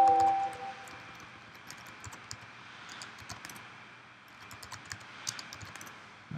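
Quiet, close keystrokes patter on a computer keyboard as a server command is typed, an irregular run of soft clicks over a faint background hum.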